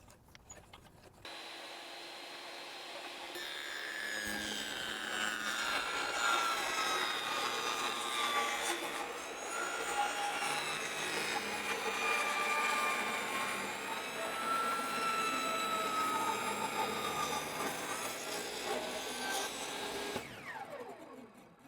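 A table saw rips a warped board guided along a jig, a steady loud whine with shifting tonal bands that runs for about twenty seconds before spinning down, with no talk over it.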